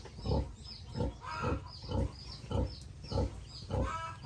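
Pigs on a farm grunting in a regular series of short, close oinks, about two each second, with no voices over them.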